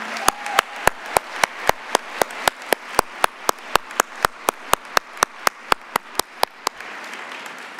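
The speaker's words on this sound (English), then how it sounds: "sweet round of applause for this honor." At an awards banquet, sharp, evenly spaced claps ring out in a steady rhythm, about three per second for roughly seven seconds, crisp and close, with a soft murmur underneath.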